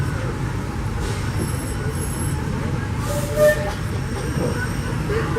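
The Disneyland Railroad train runs behind the C.K. Holliday #1 steam locomotive, a continuous close rumble of wheels and carriages with faint higher squeals and rattles over a few seconds.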